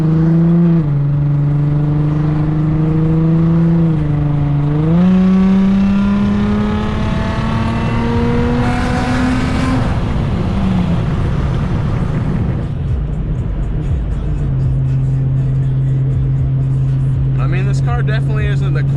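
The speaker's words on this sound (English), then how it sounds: "This car definitely isn't the quietest car I've ever owned." An Infiniti car's engine hums loudly from inside the cabin while driving, its pitch rising under acceleration then settling, with steady road noise beneath and a brief louder pull midway.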